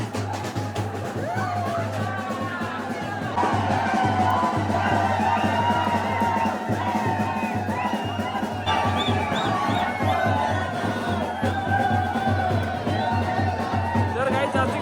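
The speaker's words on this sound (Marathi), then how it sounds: "बघू शकता खूप गर्दी आहे." A large, dense crowd at the Ekvira palkhi procession, loud continuous hubbub with cheering, whoops and shouts swelling partway through.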